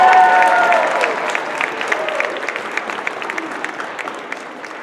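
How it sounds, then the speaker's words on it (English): Audience applause after a keynote introduction, dense clapping that starts loud and slowly thins out, with a voice briefly audible at the start. "Let's give him a round of applause."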